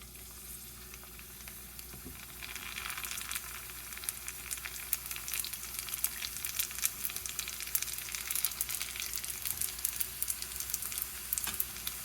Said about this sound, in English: Make sure you get them all made before you fry them so you can get them in all at once.